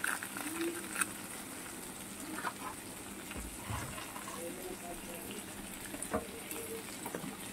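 Turmeric and Kashmiri chili masala sizzling in a pan while paneer chili is cooked, with a steady crackling hiss and occasional sharper spits under a soft background.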